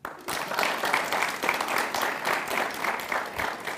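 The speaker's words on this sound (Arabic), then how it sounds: "صفقوا له." A studio audience at a comedy talk show breaks into applause, dense sustained clapping from many hands that starts abruptly and holds at a strong, even level throughout.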